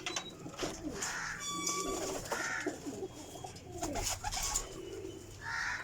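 Pigeons coo repeatedly in a loft of breeding birds, including a golden teddy hen, soft rounded calls rising and fading every second or so amid scattered chirps and faint background rustle, no voices.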